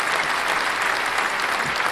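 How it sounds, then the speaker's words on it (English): Steady, dense applause from a crowd, loud and continuous throughout with no pauses or voices standing out. "The crowd goes wild."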